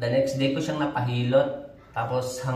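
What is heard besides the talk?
None of the usual background noises is heard.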